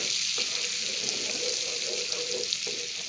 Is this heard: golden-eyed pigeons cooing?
no